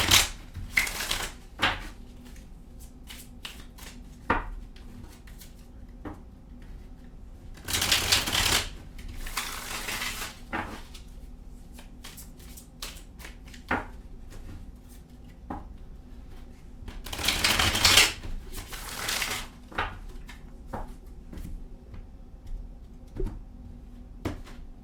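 Tarot cards shuffled and drawn at a table, with loud bursts of riffling and shuffling separated by quieter stretches of single card snaps and taps, close up with no talking.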